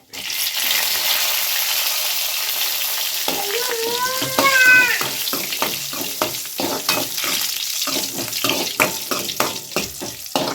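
Dried red chillies fry in a hot pan with a loud, close, crackling sizzle, joined by scraping stirs and a brief high squeal from the oil.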